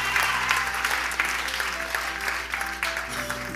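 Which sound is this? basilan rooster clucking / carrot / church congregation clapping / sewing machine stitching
church congregation clapping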